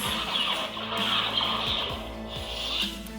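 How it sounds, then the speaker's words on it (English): A Darth Sidious Neopixel lightsaber hums steadily in a high buzzing tone while swings make smooth rising and falling whooshes and brief clash accents, all close and alone. "So let me just turn it on. So as you can hear, smooth swing, flash on clash, bolts."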